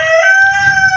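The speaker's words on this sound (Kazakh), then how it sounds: "Міне айғайлап тұрған сол әтеш." A one-year-old rooster crowing close by, a single loud, clear call lasting about a second.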